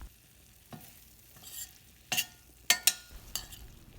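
Okra being stirred in a pan with coriander and pepper powder over a low flame, several distinct scraping stir strokes with faint sizzling between them, close and fairly quiet, no talking.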